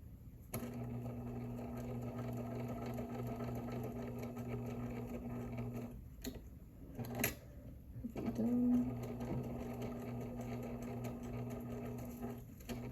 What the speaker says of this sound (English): we're gonna perforate her outline with the sewing machine